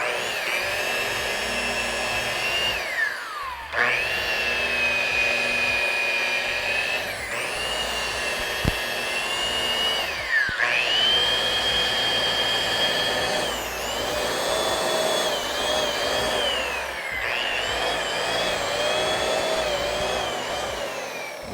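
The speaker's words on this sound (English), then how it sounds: "After I've polished the board, what I do is I just take nose to tail passes." A power polisher buffing a surfboard in nose-to-tail passes, a loud continuous motor whine that dips and rises in pitch as pressure changes, with brief pauses between strokes.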